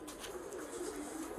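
A large male pigeon coos softly and briefly nearby, a short low burble over quiet background.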